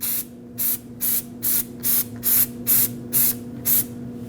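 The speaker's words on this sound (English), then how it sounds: "make sure you coat this hub with some anti-seize" Anti-seize spray coats the wheel hub of a 2005–2021 Nissan Frontier 2WD in about nine short, even hissing bursts, close up, with a low steady hum underneath.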